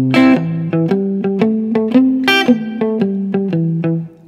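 An electric guitar plays a walking bass line in C, alternating root notes with strummed barre chords in a steady, bouncing rhythm, loud and close with no talking.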